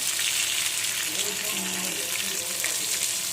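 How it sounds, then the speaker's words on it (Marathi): Bangda mackerel fillets fry in a pan with a steady, close, loud sizzle and crackle running throughout, while a voice speaks faintly underneath. "आणि दोन्ही साईडने सोनेरी कलरचे होईपर्यंत आपण ह्याला फ्राय करून घेऊ"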